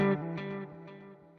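A guitar runs through the warm delay setting on a Sonicake Pocket Master pedal: a few picked notes ring out and repeat as softening echoes that fade over about a second.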